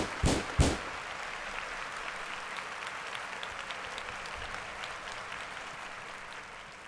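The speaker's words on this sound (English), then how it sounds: "clap it up for my man" An audience claps and cheers for a man introduced on stage, a dense steady round of applause that follows two sharp loud bursts at the start and slowly tapers off.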